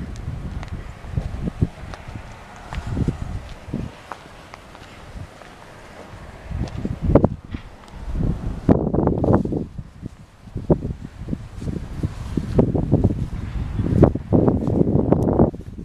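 Outdoor wind gusts buffet the microphone near a Chrysler Crossfire, building from a low rumble into stronger, uneven bursts with faint rustling and footsteps, and no speech.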